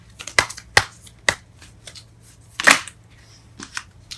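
Tarot cards shuffled and drawn by hand during a reading, a handful of sharp close riffles and snaps spaced out over a few seconds, with one longer burst of shuffling midway.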